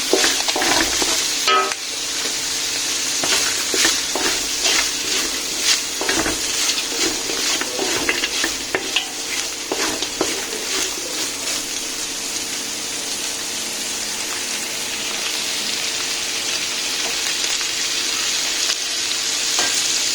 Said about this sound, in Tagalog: Hintayin natin muna maprito ng konti